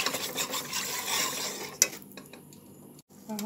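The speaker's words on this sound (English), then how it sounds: "I'm gonna mix, stir until everything is mixed out properly" Spoon stirring whole milk into homemade mac and cheese in a pot, a steady close scraping and rubbing that shifts into quieter, sparser strokes with a sharp clink partway through.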